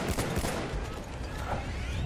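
Rapid weapon fire in the World War I shooter Battlefield 1, with a loud, continuous crackle of shots and battle noise throughout, close and dense, with no pauses.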